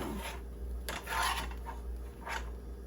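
A utensil scraping out a bowl while making fish and chips with mushy peas, a few soft rasping strokes close by, quiet and unaccompanied by speech.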